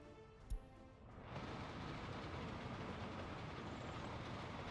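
A train in the Soviet-era city-building game Workers & Resources: Soviet Republic rolls along with a steady rumble and clatter of wagons, rising after a brief horn-like tone.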